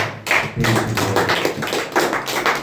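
A church congregation claps for the Lord during a Hindi-language sermon: a dense, steady run of hand claps close by and fairly loud, with no talking over it.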